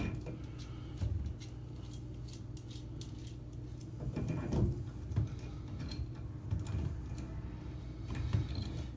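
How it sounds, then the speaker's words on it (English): Metal cartridge puller tool being screwed by hand onto the stem of a worn shower valve during a cartridge replacement, giving a run of small clicking, ticking and scraping sounds close up. "So we're just gonna screw it straight on to the stem."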